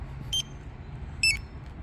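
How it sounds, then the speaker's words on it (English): Two short electronic beeps from a Dodge Challenger Scat Pack's alarm sound a second apart, faint over a low rumbling engine-like hum. "I like this alarm."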